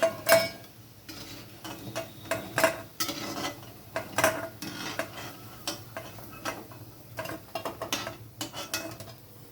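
Fried green banana koftas are lifted out of a pan of hot oil: scattered sharp clinks and scrapes of a utensil against the pan, with a faint sizzle underneath.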